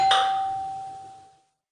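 A single bell struck once, ringing out with a bright, sustained tone that slowly decays over more than a second before fading to silence.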